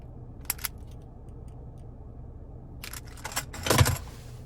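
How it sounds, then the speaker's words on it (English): Keys on a 2020 Lincoln MKZ key fob jangle in a few short metallic bursts, faint at first and then louder and closer near the end, inside a quiet car. "And then there's your key fob."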